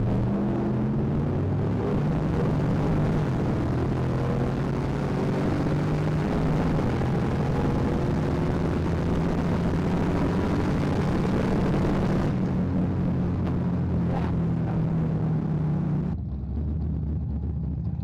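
A turbocharged car engine with a boost bleed solenoid fitted drones loudly and steadily, its pitch rising as the turbo spools up. The sound drops away abruptly near the end.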